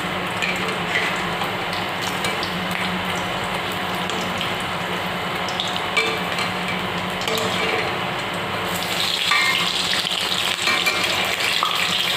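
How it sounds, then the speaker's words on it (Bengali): Sesbania (bok) flower fritters deep-frying in hot oil, a dense continuous hiss and bubbling that holds steady throughout, close by with no voices. "আগেরটা আমি লাল করে ভেজে উঠিয়ে নিচ্ছি আর এদিকে আমি আবার একটু এর মধ্যে কটা দিয়ে দিই"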